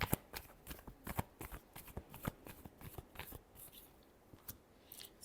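Tarot cards shuffled by hand in a quick, uneven run of crisp riffling snaps and soft slides, close and fairly quiet, with no voices.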